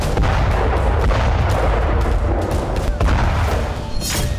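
HIMARS rocket strikes on a command centre in war news footage produce dense, loud, rolling booms and repeated blasts that overlap continuously, with a harsh crackle at the end.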